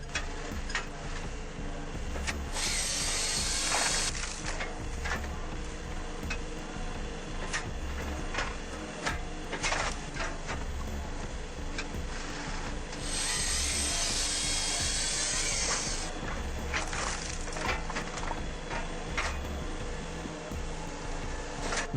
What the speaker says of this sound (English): Watching this attachment in action is amazing. It handles both cutting and splitting with ease, making quick work of tough wood.